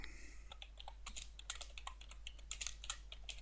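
Quick typing on a computer keyboard, a rapid irregular stream of soft, close key clicks over a low steady hum.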